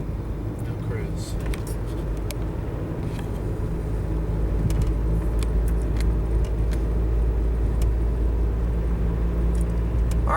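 Interior engine hum and road rumble of a Volkswagen car driving, with a steady low drone that swells slightly as it shifts gears, while people talk over it.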